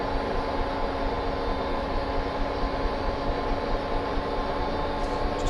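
UH-1H Huey helicopter in Microsoft Flight Simulator with its turbine engine winding up, a steady, loud, dense drone with a constant whine holding throughout.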